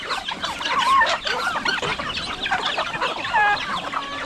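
Chickens cluck and chatter steadily on a farm among turkeys, several birds close by making overlapping calls throughout with no talk.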